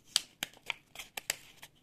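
A paper sticker packet being torn open, a quick series of sharp, faint crinkling and ripping snaps heard close up in a quiet room.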